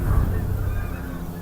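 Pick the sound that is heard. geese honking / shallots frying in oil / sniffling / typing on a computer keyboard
geese honking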